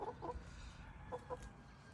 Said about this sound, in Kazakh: Мынау біздің балапан тауықтарымыз и әтештеріміз.